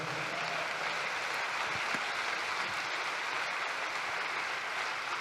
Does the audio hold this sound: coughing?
no